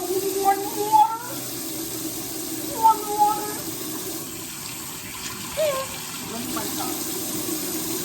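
Steady warm tap water pours continuously while rinsing conditioner from hair, with a few faint voice fragments and higher tonal squeaks rising briefly over the wash.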